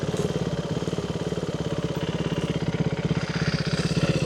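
A KTM Duke 390 motorcycle engine with an upgraded clutch runs close by, a steady rapid pulsing thrum with a faint mechanical clatter over it, no talking.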